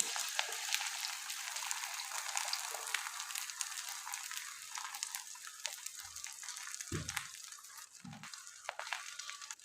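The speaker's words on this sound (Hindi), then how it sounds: "अंडे को फ्राई करने के लिए हमने एक पैन में ऑयल डाल दिया" An egg fries in about two spoons of oil in a pan, giving a steady, fine, hissing sizzle throughout with a few soft low knocks near the end.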